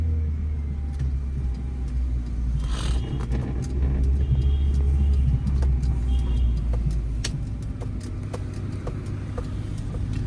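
A car drives in city traffic with a steady low engine rumble and road noise close up. The engine stays continuous through a gear change to second, with faint clicks and no talk.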